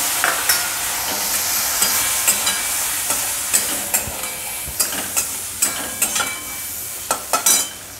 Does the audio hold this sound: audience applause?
no